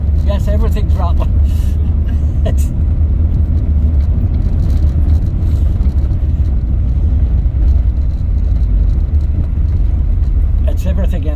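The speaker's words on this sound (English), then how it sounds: "Yes, everything's rattling." A car's interior rattles and vibrates while driving, a loud low road rumble with scattered clicks and rattles, steady throughout and close to the cabin.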